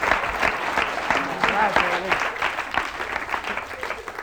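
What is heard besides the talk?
studio audience applause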